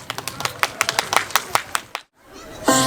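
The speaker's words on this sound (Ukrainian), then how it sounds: "Ваші оплески дітям гучно!" Scattered handclaps from a small outdoor audience in a park grove greet a children's performance, sparse and uneven for about two seconds before cutting to silence, then music begins.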